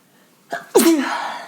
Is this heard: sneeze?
yes